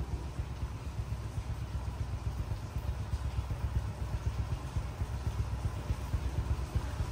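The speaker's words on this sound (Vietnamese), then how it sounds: "Anh chị nghe cái tiếng ăn tì của nó nhuyễn nhừ luôn á." A Honda Wave 110 with its stock exhaust idles close to the microphone, giving a soft, even, low putter that stays steady throughout.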